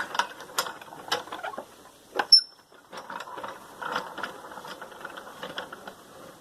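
A homemade wooden blacksmith post vice, built from 2x6 boards with a bottom hinge and an Acme screw thread from an old vise, is cranked, giving quiet ratcheting clicks and creaks in an irregular rhythm, close and alone.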